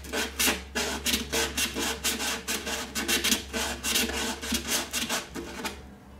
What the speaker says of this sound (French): j'utilise de l'abrasif toilé et une touillette à sucre pour pouvoir aller vraiment dans le bord du bord de la jonction